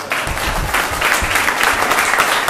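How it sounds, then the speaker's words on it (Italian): Close, loud round of applause from people gathered at the inauguration of a catering kitchen center in Cerignola, brisk clapping filling under three seconds. "Facciamo un applauso alla proprietario."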